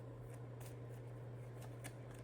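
Playing cards are shuffled in quick, faint riffling bursts over a steady low hum.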